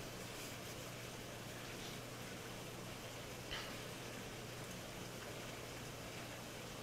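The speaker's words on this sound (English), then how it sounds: "I'm sure you guys can hear all that rain. It's pretty loud" Loud, steady rain outdoors fills the background as a constant broadband wash, with a faint hum underneath and no clear voices.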